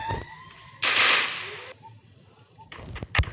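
Gunfire in the mobile battle game Free Fire, with a loud dense burst of automatic shots lasting under a second, then quieter in-game effects and a few sharp reports near the end.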